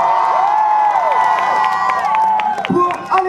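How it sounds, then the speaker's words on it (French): A live crowd at a town festival concert in Yerres cheers and whoops for a band's musician, a dense, loud roar of voices with scattered shouts and faint clapping, with a spoken voice and a sustained tone running over it. "Un tonnerre d'applaudissements pour Léo"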